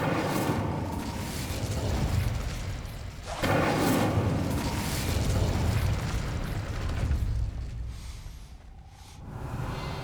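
A blast from the Incendio fire spell in the video game Hogwarts Legacy: a loud, roaring burst that swells twice over several seconds, then fades into a quieter rumble near the end, with no talking.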